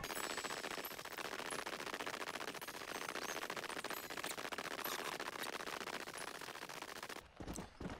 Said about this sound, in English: If I take a left here, there's some gunfire.